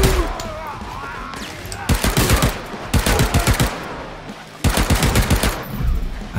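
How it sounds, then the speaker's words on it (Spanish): Bursts of rapid, mechanical shots fire in quick succession, several loud volleys separated by brief pauses, from a nail gun in the game Paint the Town Red. "es una pistola de clavos"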